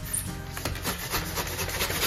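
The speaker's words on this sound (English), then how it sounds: "This is a lot more sawing" A knife sawing back and forth through foam board while carving rock texture for model railroad scenery, producing a steady, close rasping rub that continues without pause and without talk.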